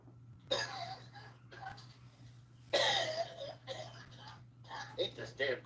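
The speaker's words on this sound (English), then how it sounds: "Ain't this damn cough." A man coughs and clears his throat in several harsh bursts, close and fairly loud, with a low steady hum underneath.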